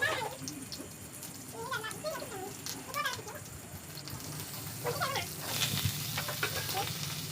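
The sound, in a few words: okra and potato sizzling in onion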